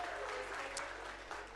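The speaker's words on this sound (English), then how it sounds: "we're clapping it up for Victoria" An audience at a school board meeting gives a short burst of faint, distant applause, a steady patter of many hands clapping in a large room.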